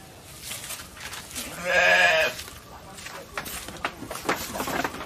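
Goats bleat in a loud, sustained call over ambient farm noise while being offered fermented feed, followed by rustling and shuffling movement nearby.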